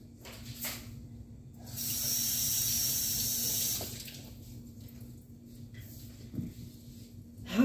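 Tap water running at a kitchen sink for a couple of seconds during washing before cooking pot roast beef, a steady hiss that starts and stops, with quieter kitchen clatter around it and no talking.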